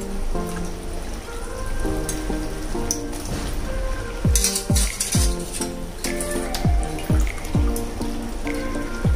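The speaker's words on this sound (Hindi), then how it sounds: "अब इसमें हम डालेंगे अपना पास्ता।" Pasta tipped into a pan of cheesy white sauce made without maida, giving a continuous crackling, sizzling bubble over background music.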